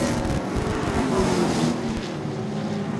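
Late model race cars, including two Toyotas battling side by side for third, roar around Seekonk Speedway, a steady loud engine drone with a slight rise and fall as the pack passes.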